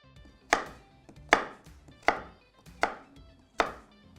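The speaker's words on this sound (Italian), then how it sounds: "Infine taglio a cubetti di 1 centimetro." A kitchen knife cuts pumpkin into 1 cm cubes, five sharp, evenly spaced chops on a board about every 0.8 seconds, close and clear with no talking.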